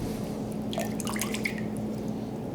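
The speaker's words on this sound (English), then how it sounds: "all you're really looking to do is just rinse off any of that excess salt and cure that's left over" Water trickles and drips while excess salt and cure are rinsed off a turkey wing, soft close splashing that comes in brief patters over a low background hum.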